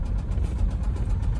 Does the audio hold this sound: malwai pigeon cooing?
no